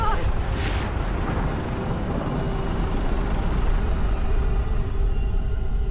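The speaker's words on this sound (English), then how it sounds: "Oh my fucking god, I forgot how huge that explosion is." A nuclear explosion in the video game Fallout 4 rolls out as a heavy, sustained low rumble that fills the whole moment and slowly fades, with no speech over it.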